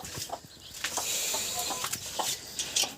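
A broody hen clucks near her chicks in a backyard coop, a run of short, close clucks and soft grumbles with a few sharper peeps, no voices heard.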